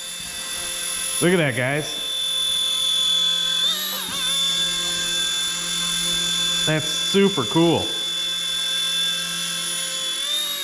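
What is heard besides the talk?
Motion RC mini helicopter hovering after auto takeoff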